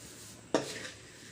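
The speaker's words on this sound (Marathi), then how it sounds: "हे मुरमुरे जे आहेत छानसे क्रिस्पी होईपर्यंत भाजून घ्यायचे आहेत कंटिन्युअसली फिरवत राहायचं आहे" Puffed rice dry-roasting in a pan over a low to medium flame gives one sharp, close clatter of a stirring stroke, then a soft dry rustle that fades away.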